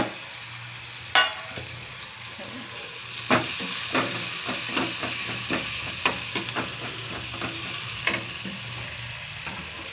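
Chopped onion frying in a pan with green chillies for spicy brinjal bharit, a steady sizzle broken by repeated spatula scrapes and stirs at a moderate, close level.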